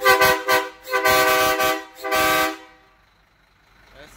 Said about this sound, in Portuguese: Hoje foi colocado aqui, ó, a buzina de trem